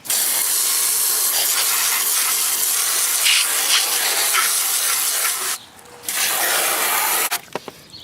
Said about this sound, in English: just keep spraying it until you get all that dust off of there